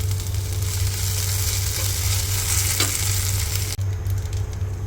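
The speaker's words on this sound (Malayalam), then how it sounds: "ഫിഷും ഫ്രൈ ചെയ്യുന്നുണ്ട് ഇത് നത്തോലി മീനും ഉണ്ട് കുറച്ച് മത്തിയുണ്ട്" Anchovies and sardines sizzle in oil in a frying pan with a loud, continuous hiss and a low steady hum underneath, close up, with one brief stir-like scrape.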